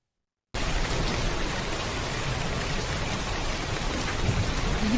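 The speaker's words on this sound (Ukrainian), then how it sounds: "Йде дощ." Steady, dense rain pours down evenly after a brief moment of silence, a constant hiss with no pauses or voices.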